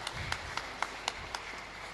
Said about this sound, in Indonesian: Bisa tepuk tangan dulu ya.